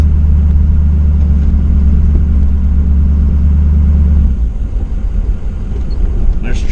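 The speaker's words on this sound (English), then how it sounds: "There's trucks everywhere, they're busy." Trucks rumble past at a busy gravel quarry, with a loud, steady low engine drone up close that eases off partway through and leaves lighter vehicle noise behind.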